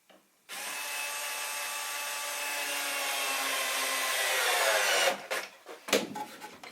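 Power drill driving screws into a wooden bird box, one long motor whine of about four and a half seconds that rises slightly in pitch, followed by short stop-start bursts, close and alone.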